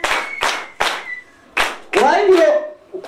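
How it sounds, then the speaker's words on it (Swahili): Sharp hand claps in a church service, several separate loud claps spaced irregularly, then a denser burst of clapping mixed with voices. "Wewe pipi ya makofi mara 20"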